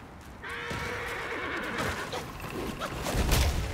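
A horse in the Black Myth: Wukong video game gives a loud, drawn-out neigh over clip-clopping hooves and shifting game effects.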